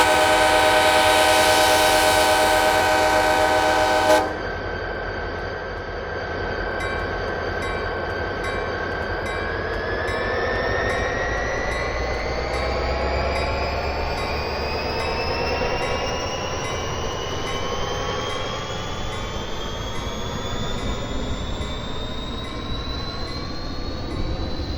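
A Morrison-Knudsen F40PHL-2 commuter locomotive of Tri-Rail in South Florida sounds a loud, sustained horn blast, then rumbles past with rising wheel squeal and rail noise that continue steadily to the end.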